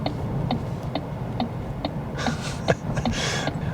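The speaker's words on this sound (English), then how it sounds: "let me put on the indicator for you" A brand-new Opel Astra's turn indicator ticks in a steady, even rhythm, roughly two clicks per second, over a low hum of engine and road noise.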